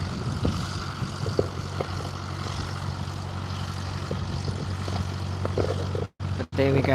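A light propeller aircraft departing from Barton Aerodrome, a steady low engine drone heard from a moderate distance with faint voices, cut by two brief dropouts near the end.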